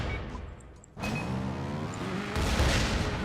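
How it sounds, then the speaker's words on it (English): Explosions go off in the motorbike trials video game Trials Evolution: Gold Edition, first a sudden loud blast about a second in, then a second heavy boom soon after, each followed by rumbling debris. "Lots of explosions going on too, though."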